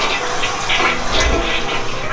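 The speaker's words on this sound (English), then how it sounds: "a hand waving sensor on there, so it just flushes automatically" A sensor-activated glow toilet flushes automatically in a home bathroom, giving a steady rushing wash of water that holds at an even level for about two seconds.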